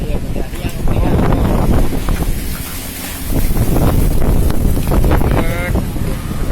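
A strong whirlwind roars and buffets the microphone in loud, uneven gusts, with people talking over the wind.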